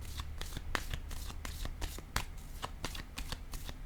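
Playing cards shuffled by hand for a tarot-style card reading, a rapid run of crisp riffling flicks and snaps repeating steadily and close up, with no voice over it.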